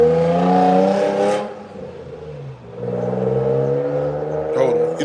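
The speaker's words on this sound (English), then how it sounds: "I hate loud cars" A loud car engine revs and roars past nearby, with a steady droning pitch that dips and then rises again, heard alone without talk.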